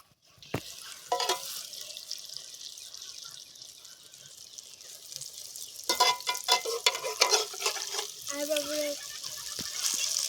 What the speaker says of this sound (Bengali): এগুলো প্রায় ভাজা হয়ে গেছে।